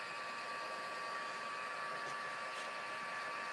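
A heat tool warming up for card making blows a steady, even, fan-like whoosh, close and unbroken.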